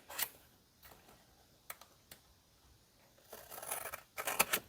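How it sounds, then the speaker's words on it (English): Scissors cut out the bottom of a paper piece, several soft snips with quiet gaps, then a longer run of rustling cuts near the end, close and fairly faint. "So we're going to cut out this bottom here."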